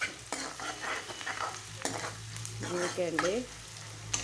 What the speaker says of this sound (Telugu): కొంచెం ఎర్రగా వేపుకుందాం.